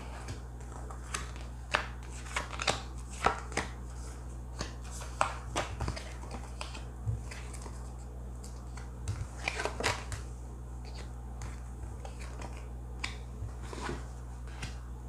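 Tarot cards being shuffled and handled during a reading, giving soft papery flicks and riffling clicks in irregular bursts against a low steady hum, fairly quiet and with no talking.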